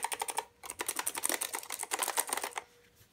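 Fast, crisp clicking from typing on a Rampage Mecony R8 mechanical keyboard with blue switches. There is a short pause, then a longer burst of rapid keystrokes that stops near the end, all fairly soft.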